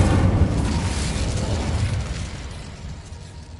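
A booming, explosive burst from the Incendio fire spell in Hogwarts Legacy, loud at the start and decaying into a rumbling roar over several seconds.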